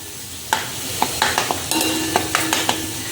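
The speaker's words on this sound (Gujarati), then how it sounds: "થોડું હજુ શેકાવા દઈએ" Wheat flour roasting in ghee in a pan for Gujarati sukhadi, with a steady soft sizzle broken by about eight sharp spoon scrapes and knocks against the pan, close up and with no voices.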